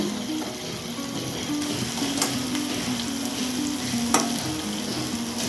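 Diced potatoes with poppy seeds frying in oil as the sauce dries out, stirred steadily in a pan, with a continuous close, loud sizzle and occasional scrape of the spoon.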